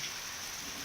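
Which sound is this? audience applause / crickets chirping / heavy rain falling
heavy rain falling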